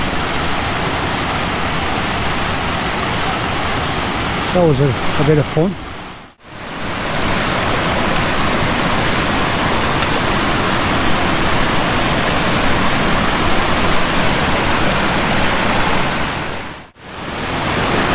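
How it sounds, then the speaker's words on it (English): A mountain river crossing on the way up Scafell Pike in England, with steady loud rushing water throughout, voices of hikers briefly over the flow and short dropouts in the sound. "We need to cross the river here."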